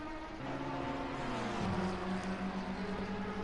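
An Aston Martin GT race car in Assetto Corsa Competizione, racing in a British GT endurance round at Silverstone, gives a steady droning engine note. Its pitch shifts as the car changes gear partway through, and it sounds at moderate volume.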